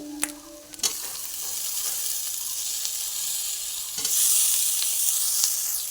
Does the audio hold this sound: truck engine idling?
no